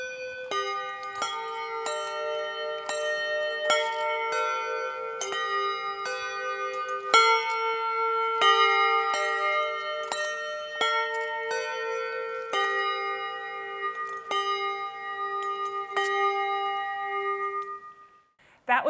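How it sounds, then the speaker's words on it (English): An Irish Girl Guides Brownie unit from Dublin rings Brownie bells, sounding a slow, clear melody of struck chiming tones that ring on and overlap, played alone without talk. "Here is my own Pinewood Brownie unit from Rathfarnham in Dublin playing Brownie bells."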